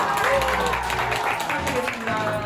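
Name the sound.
audience applause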